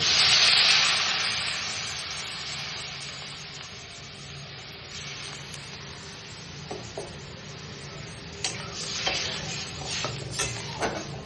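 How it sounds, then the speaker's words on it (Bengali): Water poured into a pan of fried potatoes with green chili gives a loud initial hiss and sizzle that eases into a steady simmering crackle, with a few scraping stirs near the end. "আলু ভাজা হয়ে গেছে, এবার দিয়ে দেবো জল।"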